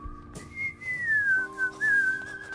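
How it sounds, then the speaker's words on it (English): Someone whistles a short melody, a clear single tone gliding gently down and back up, with nothing else around it. "I do like that whistling theme though"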